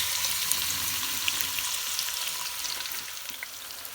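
About three and a half chopped onions frying in roughly 100 ml of warmed oil for smoky keema, a dense, even crackling sizzle with faint pops, steady and close throughout.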